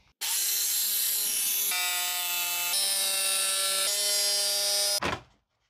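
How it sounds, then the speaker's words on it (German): A power saw cuts open the wall of a camper, a loud sustained buzzing rasp with steady tonal harmonics that shift pitch in several stages over about five seconds before stopping sharply. "Jetzt schneiden wir die Wand auf."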